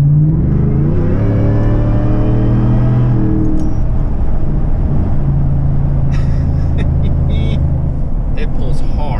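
A supercharged Ford F150 pickup making about 600 wheel horsepower accelerates hard on dry roads, its engine note climbing loudly in pitch before easing into a lower rumble, with brief voices near the end.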